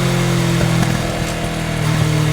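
Kawasaki Ninja 650 motorcycle with an Akrapovič exhaust, a loud, steady engine drone heard close up while riding, holding a constant pitch with slight wavers, no talk.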